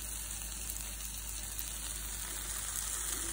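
Onions frying in a pan with softened tomatoes for an aloo sabji to fill masala dosa, a faint, steady sizzle that runs evenly throughout.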